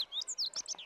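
Cartoon bunting gives a quick series of high, bright chirps and tweets, clear and close, with no talk over it.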